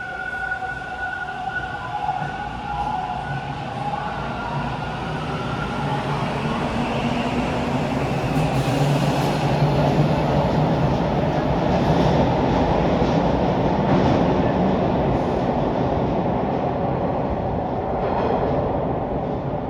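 A Toronto TTC subway train rumbles steadily through Chester station, a broad continuous roar with metallic squeals and clatter rising midway, loud and close, no voices.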